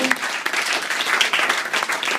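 Guests at a wedding speech clap together in a steady, lively burst of applause that carries on evenly for about two seconds.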